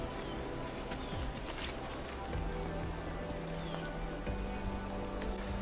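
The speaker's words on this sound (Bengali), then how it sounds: "হালকা হালকা বৃষ্টি, ঠান্ডা ঠান্ডা হাওয়া জঙ্গলের মধ্যে দিয়ে আসে" Light rain falling in a forest along a mountain trek, a steady soft patter of drops with a cool breeze, even and continuous with a low background rumble and no talking.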